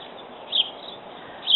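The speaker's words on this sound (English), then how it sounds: "The birds love it." Small birds chirp in a spring yard with Virginia creeper on a fence, giving two brief, faint high tweets about a second apart over a steady background hiss.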